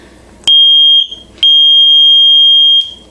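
A DIY simple circuit kit speaker for beginners gives loud, steady electronic buzzer beeps, two long shrill tones each over a second, separated by a short gap, with a third starting at the end.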